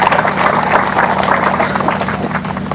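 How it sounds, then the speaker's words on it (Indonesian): A church congregation applauds loudly and close by, a thick, continuous rush of clapping hands that holds steady throughout. "Tepuk tangan dulu."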